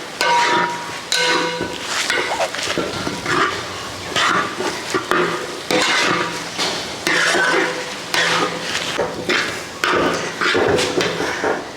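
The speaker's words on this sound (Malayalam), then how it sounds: "ഇനി നമുക്ക് നന്നായിട്ട് ഇത് മിക്സ് ചെയ്തെടുക്കാം." Mashed potato being stirred by hand into a chicken cutlet mixture in a pan, with steady scraping and stirring of a spoon against the pan over a soft sizzle, close and continuous.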